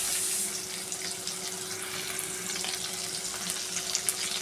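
Crushed garlic and onion frying in a pan with a steady bright sizzle, faint and even, with a few small pops and crackles.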